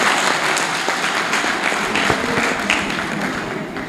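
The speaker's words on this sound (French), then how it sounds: "Je veux que vous vous applaudissiez, s'il vous plaît, mes chers animateurs polyvalents." Audience applause at a gathering of teachers' movements, honoring multipurpose activity leaders, steady dense clapping from a full room throughout.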